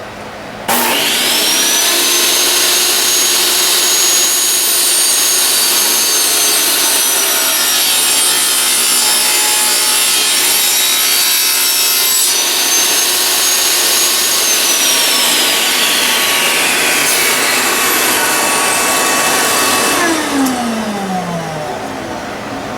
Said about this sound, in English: we're now going on the table saw to half them